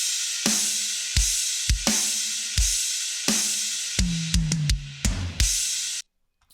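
Heavily processed MIDI drums from a heavy metal mix: punchy kicks and bright crashing cymbals hit in a steady pattern, then a quick run of tom hits near the end before the sound cuts to silence.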